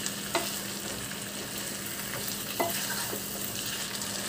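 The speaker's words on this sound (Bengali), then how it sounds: "দিয়ে এখন আবার সব মশলার সাথে একসাথে কষাবো।" Fish heads frying in a pan with spices for a Bengali chorchori, a steady soft sizzle with a few scraping stirs of the spoon, close and quiet with no talking.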